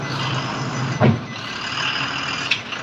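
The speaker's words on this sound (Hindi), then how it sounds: "सर थोड़ी पीछे करनी पड़ेगी गाड़ी।" A loaded brick truck backing up for loading, its reversing beeper chirping twice over a rumbling idle engine, with a short hiss like an air brake, close by.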